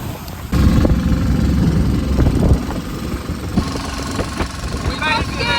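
A boat engine idles with a low, steady rumble at Koh Lipe, Thailand, and people talk nearby over it.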